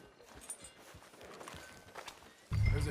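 Horse hooves clip-clop at a walk in Red Dead Redemption 2, soft steady footfalls under faint game ambience, followed by a sudden loud low rumble near the end.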